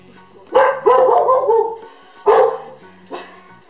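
A pet dog barks loudly at close range, several sharp barks in two bursts with a brief pause, and a final shorter yelp.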